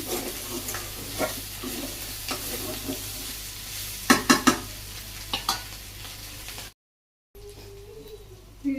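Chicken meat sautéing in a pan, a steady close sizzle and frying hiss broken by several sharp scraping stirs of a spoon against the pan, with a brief dropout near the end before the sizzle resumes.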